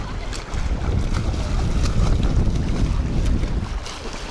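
Sea at a beach in Adler, with a steady broadband wash of waves and heavy wind rumble against the microphone that continues throughout, no voices.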